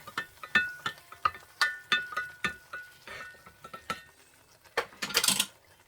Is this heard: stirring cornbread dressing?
yes